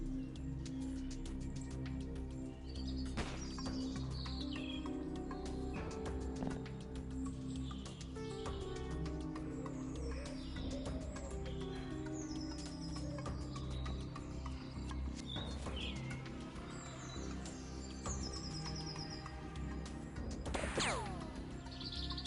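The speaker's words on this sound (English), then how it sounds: "the bird sounds are very unsettling" Unsettling ambient birdsong in the X-Piratez video game, scattered chirps and tweets over a steady low hum, moderately faint and continuous with no talking.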